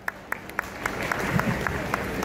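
Audience applause at a public talk, starting with a few separate, evenly spaced claps and swelling into steady, moderately loud clapping from the crowd.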